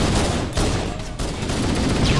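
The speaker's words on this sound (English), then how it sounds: "That guy's firing guns off near me." Rapid gunfire from another player in the video game Halo, a dense burst of repeated shots close by, nearly continuous over a couple of seconds with a short gap in the middle.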